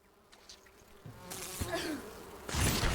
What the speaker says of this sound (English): And a few more bees, too.